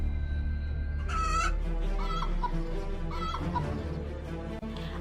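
A plump hen clucks close by in a few short, distinct bursts against a steady low background hum.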